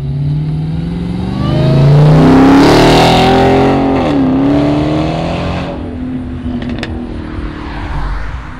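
A Dodge Challenger Hellcat Red Eye accelerates past at a cars and coffee meet in Fairfield, Ohio, a loud engine roar that swells as it nears, shifts pitch and fades away.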